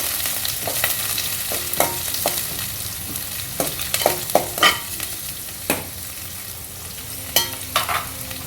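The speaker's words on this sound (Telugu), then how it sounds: "ఇవి బాగా వేగనివ్వాలి" Chopped green chillies fry in a pan for a greens curry, with a low continuous sizzle and frequent sharp scrapes and knocks of a spoon stirring against the metal.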